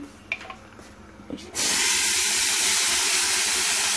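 Chana dal for Bihari-style kachori drops into a hot pan and sets off a sudden loud, steady hiss after a few quiet clicks, continuing strongly to the end.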